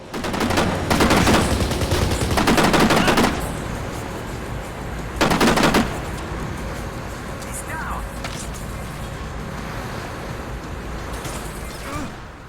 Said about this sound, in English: The ambient sound and gunshots all sound great here